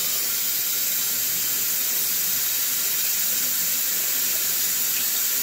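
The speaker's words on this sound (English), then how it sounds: "You want to run this until clear water comes out the other side." Water flushes steadily through a boiler pigtail, a continuous hissing rush with no break and no talk over it.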